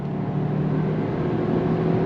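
2024 Hyundai Kona N-Line with an 8-speed transmission accelerating from a slow roll, heard from inside the cabin as a steady droning engine hum with a low tonal whine. It is constant and fairly loud, with no voices.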